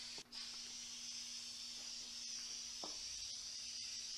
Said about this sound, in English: Next you want to apply the spray adhesive to the vinyl corner bead.